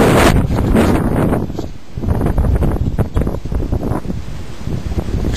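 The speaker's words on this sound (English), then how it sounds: "This is a very cold wind." Strong, very cold April windstorm in Edmonton, Alberta, roaring and gusting steadily into the microphone with loud buffeting rumble and rushing noise throughout, no voices.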